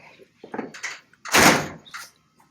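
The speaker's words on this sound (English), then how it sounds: "Doors closed solid." A 1985 Chevrolet Caprice Landau's car door shuts with a solid, close thud, preceded by a few quieter clicks and rustles of handling.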